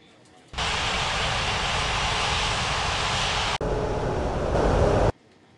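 Jet airliner engine spooling up for takeoff on runway 27 in an air traffic control game set at Bali's Ngurah Rai airport: a sudden loud, even roar that runs about five seconds, with a brief cut partway through, then stops.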